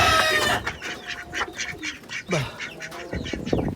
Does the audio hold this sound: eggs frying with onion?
no